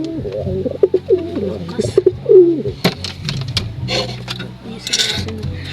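Pigeons coo close by in a breeding coop, soft repeated throaty calls early on, followed by wing flutters, knocks and other bird sounds while people talk faintly.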